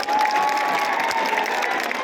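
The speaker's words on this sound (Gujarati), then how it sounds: "એમના માટે તાળીઓ પાડી લઈએ" Dense, sustained applause from a large crowd at an Aam Aadmi Party political rally in Gujarat, steady and loud throughout with a faint whistle tone running underneath.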